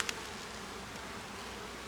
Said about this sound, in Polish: No, pszczół jest sporo.